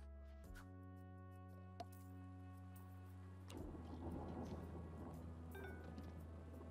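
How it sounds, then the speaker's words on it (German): A thunderstorm in Two Point Hospital comes in after a steady humming game tone, as a burst of broad rumbling storm noise with patter that carries on quietly to the end. "Also hier sind es Gewitter."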